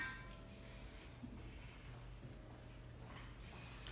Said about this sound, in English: So using my flexible hairspray, I'm gonna spray and just div it in with the can like that.